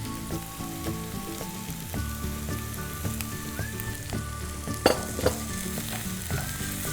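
Methi leaves sizzle and crackle in a hot pan with onions, steady close frying hiss broken by scraping stirs and a couple of sharper clinks, no voices over it.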